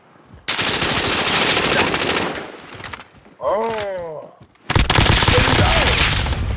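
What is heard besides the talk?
gunfire in a video game battle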